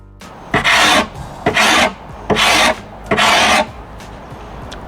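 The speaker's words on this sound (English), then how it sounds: "if you have a Carbide Scraper and the finish isn't coming off as smoothly as here, you should probably change the blade" A carbide scraper strips varnish off wooden furniture in four loud, rasping strokes, each about half a second long, with short pauses between them.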